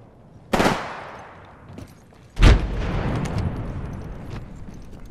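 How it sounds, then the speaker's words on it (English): Gunfire in the video game Apex Legends, two sharp loud shot bursts about two seconds apart, each followed by a rumbling decaying tail. "I'm getting shot at"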